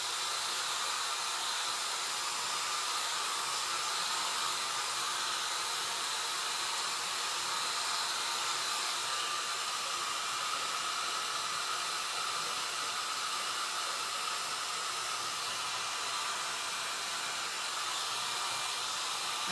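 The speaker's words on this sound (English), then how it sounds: "Get the blow dryer." A blow dryer runs continuously at one steady setting, a loud, even broadband whoosh and hiss with no pauses or speed changes, close by and alone without talk.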